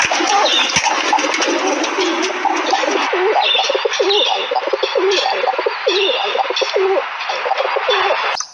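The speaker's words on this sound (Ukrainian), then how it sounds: "Голуби." Pigeons coo continuously in low, rolling, repeated calls, close and loud, several birds overlapping.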